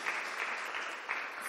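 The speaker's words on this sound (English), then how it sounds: "Let's have a round of applause first, because that was so awesome." An audience at a creature design panel gives a round of applause, soft, steady clapping heard from a distance over a brief stretch with no talking.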